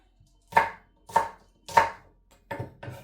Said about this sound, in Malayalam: ഇങ്ങനെ ഇച്ചിരി നീളത്തിന് അരിഞ്ഞാൽ മതി ഇനി ഇതിലേക്ക് വേണ്ടത് പച്ചമുളകാണ്